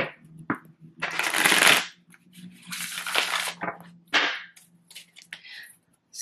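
A deck of tarot cards is riffled and shuffled in several loud, crisp bursts, each about a second long, close to the listener, with short taps and quiet pauses between them.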